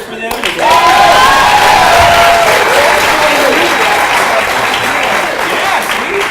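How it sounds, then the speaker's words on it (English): A live stage show crowd breaks into loud, sustained cheering and applause for a volunteer joining the performer on stage, a dense roar of clapping and whoops that swells in and stays strong throughout. "can we cheer for them?"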